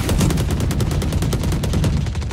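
Rapid automatic gunfire in the tactical shooter Valorant, a dense, steady stream of loud, closely spaced shots running unbroken from start to finish.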